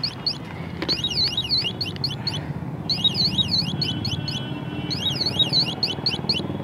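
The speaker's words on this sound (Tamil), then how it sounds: "தண்ணி வந்து உள்ளே இருக்கிறதுனால உங்களுக்கு வந்து அலாரம் அடிக்குது." A homemade water tank overflow alarm gives off repeated bursts of high, warbling electronic chirps over a steady background rumble, and no voices are heard.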